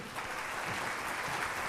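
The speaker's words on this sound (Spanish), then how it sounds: "Que se escuche fuerte el aplauso para el maestro Gilberto Chávez Orozco" Steady, dense applause from a ceremony audience fills the hall for a panel speaker being honored, continuous and fairly loud with no break.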